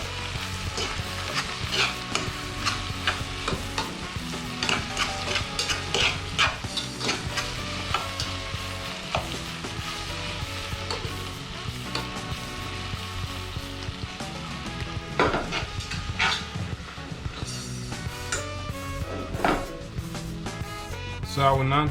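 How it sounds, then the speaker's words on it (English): A spoon stirs egusi and okra soup in a simmering pot, giving repeated scraping and clinking knocks over a continuous bubbling sizzle, with a voice speaking intermittently. "Then I stir it and leave it for some time."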